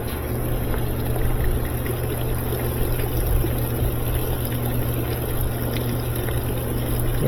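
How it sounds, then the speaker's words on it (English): Water runs steadily into the tub of a GE stacked washer-dryer unit, a constant broadband rush with a low machine hum underneath, no talk. "And we're filling that with water."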